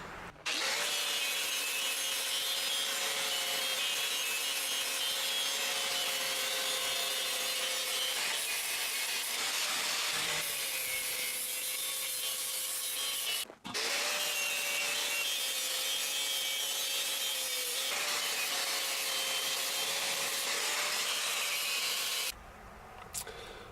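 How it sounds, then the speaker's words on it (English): A wire brush on an angle grinder scours rust, corrosion and charcoal buildup from inside a kettle grill, a loud continuous harsh whirring scrape with a steady motor whine, briefly stopping once midway before resuming and then cutting off near the end. "Now I need to go put that wire brush back on and grind off all the corrosion and charcoal buildup and rust and everything that's in there."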